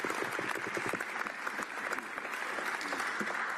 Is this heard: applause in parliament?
yes